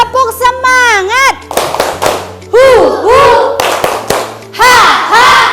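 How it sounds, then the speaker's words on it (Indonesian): Primary school pupils in a classroom do a rhythmic spirit clap, sharp bursts of patterned hand claps alternating with loud chanting children's voices in quick sung phrases. "ayo semuanya bertepuk semangat. Yang lebih semangat ya, tepuk semangat"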